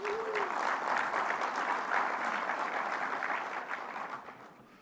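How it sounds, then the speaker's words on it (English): Sustained audience applause fills a formal awards gala, dense steady clapping from a large crowd that tapers off toward the end. "Let's give them a round of applause."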